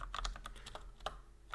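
Keys clatter on a computer keyboard as code is typed, a quick irregular run of light, close clicks at low volume with no talking.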